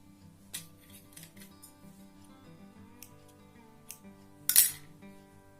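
Scissors snip thread while a saree tassel is being made, giving a handful of separate crisp clicks spread out over the clip against faint steady background music.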